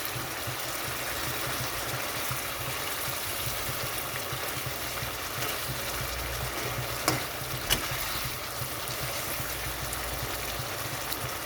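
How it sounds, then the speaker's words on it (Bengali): Soft, fish-like chanda resembling pomfret simmering in a pot of boiling spicy curry, a steady low bubbling and hiss that runs throughout, with a couple of brief clicks near the end and no talk. "এখানে ঝোলটা ফুটে গেছে ভালো মতো। তো এখানে আমি মাছটা দিয়ে দিচ্ছি।"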